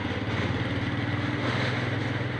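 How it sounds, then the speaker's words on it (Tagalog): A motorcycle engine drones loudly and steadily close by on a street in Trece Martires, Cavite, a continuous buzzing rumble throughout. "motor"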